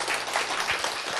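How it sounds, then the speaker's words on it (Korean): Brief burst of audience clapping at a lecture on healing diabetes, a dense rush of hands that stays even and moderately loud for about a second. "박수."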